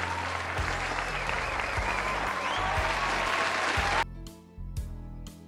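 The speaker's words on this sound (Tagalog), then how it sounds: "Virtual na palakpak para sa inyong lahat." An applause sound effect, a dense burst of clapping that cuts off abruptly, over a thumping music bed that keeps playing.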